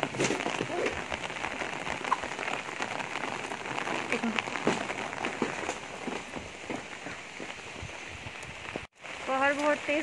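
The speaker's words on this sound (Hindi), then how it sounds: "बाहर देख सकते हैं कितनी तेज़ बारिश हो रही है." Heavy rain pours down steadily outside a dormitory in Wuhan, a dense hiss of drops hitting surfaces, with a brief cut near the end before someone starts talking.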